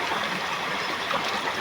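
River water flows steadily nearby, a soft continuous broadband rush and trickle with no distinct splashes or speech.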